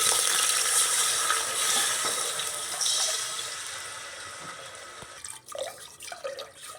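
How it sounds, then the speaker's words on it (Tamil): Three cups of water pour steadily into a pot with chopped green chilies and curry leaves, a full splashing rush that eases off, followed by a few clanks and drips. "3 கப் தண்ணி ஊற்றுறேன்."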